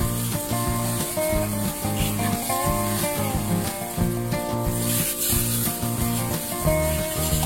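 Hands rub and squish raw chicken coated in spicy bake mix with garlic, ginger and spring onion, a continuous close, wet rubbing sound with background music underneath.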